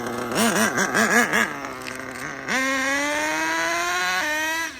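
An HPI Savage 25 nitro RC monster truck engine, recently running lean, buzzes through several quick revs, then settles and jumps to a higher, steady whine as it shifts gear, loud and close.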